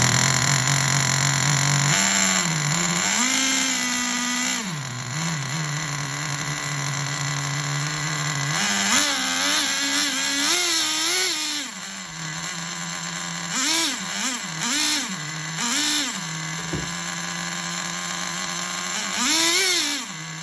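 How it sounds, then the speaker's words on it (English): Traxxas Jato 3.3 nitro RC car engines idle with a high, buzzing drone, then rev repeatedly in rising and falling whines, several sharp throttle blips standing out near and loud with no talking. "So if I'm revving them up, don't freak out."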